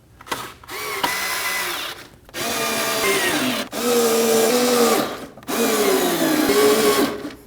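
A power drill snugs four fender liner screws on a 2011-2016 Kia Optima, with three or four whirring runs of a second or two each, separated by short pauses. The drill is close and loud, and the pitch shifts as each screw seats.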